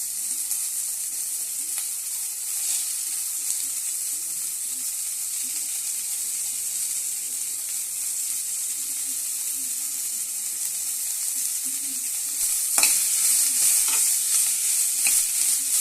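Spring onion sizzles steadily in a hot pan while being stirred, a continuous frying hiss with soft scraping, briefly louder near the end; no talking.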